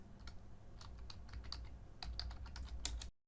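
Rapid keystrokes on a computer keyboard while typing code, a steady run of close, crisp clicks with brief pauses and a denser burst near the end.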